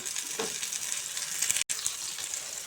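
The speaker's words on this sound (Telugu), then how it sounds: "ఉల్లిపాయలు పచ్చిమిర్చి ఫ్రై అయింది" Onions and green chillies sizzle steadily in a pan for a chicken pulao, a continuous close crackling hiss with no talk and a brief dropout midway.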